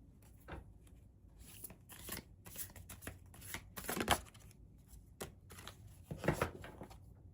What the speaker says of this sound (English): I want to pull some of these alchemy cards